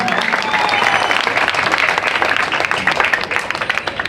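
An audience at a mimicry show breaks into dense, loud applause that lasts the whole moment, a continuous rattle of many hands clapping.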